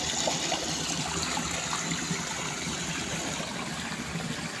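Strong river current rushes steadily past, a dense continuous wash of flowing water close by with no voices over it.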